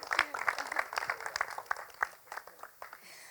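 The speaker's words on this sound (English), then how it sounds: "A huge round of applause for her." Audience applause welcoming actress Khushbu Kamal at a 2016 movie trailer launch event, a scattered, moderately faint burst of clapping from a crowd that thins out over a few seconds.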